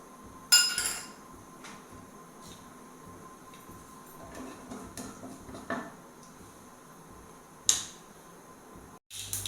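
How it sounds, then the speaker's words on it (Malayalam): Mustard seeds pop in hot coconut oil in a pan, sharp scattered crackles and snaps, a few louder bursts among quieter sizzling, close by with no speech. "പാൻ ചൂടായി അതിലേക്ക് നമുക്ക് കുറച്ച് കടുക് ഇട്ട് കൊടുക്കാം."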